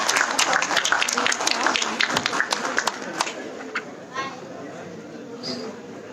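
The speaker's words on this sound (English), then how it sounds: "May I have a big round of applause, please?" Audience applause at a Republic Day celebration in India, many hands clapping densely for about three seconds before fading into scattered claps and room murmur.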